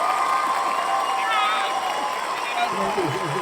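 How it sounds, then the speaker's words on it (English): Crowd noise from spectators at the U.S. Open tennis tournament: a steady, dense roar of cheering and babbling voices with no breaks, loud and sustained throughout. "Is that the U.S. Open crowd cheering for me as I find my way to my seat after booing Trump?"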